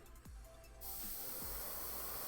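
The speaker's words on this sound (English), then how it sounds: "you can kind of speed up drying a bit by just holding down the trigger and spraying only air rather than paint" An airbrush blows only air across freshly painted fire effects on a miniature to speed drying: a sudden steady, close hiss that starts after a short quiet moment and holds without a break.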